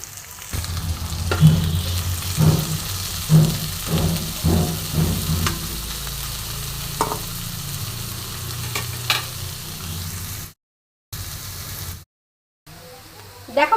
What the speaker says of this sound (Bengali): পেঁয়াজটাও আমি ভালো করে ভেজে নেবো লাল করে